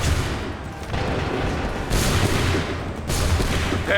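Continuous musket volleys and massed gunfire from an Assassin's Creed III battle, dense crackling bursts layered over each other with heavier swells near the two- and three-second marks, loud and sustained throughout.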